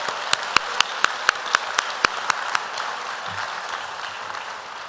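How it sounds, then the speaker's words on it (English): A crowd at a university commencement ceremony applauds, with sharp, evenly spaced claps standing out at first before blending into a steady wash of clapping. "can we applaud all of our amazing presenters today"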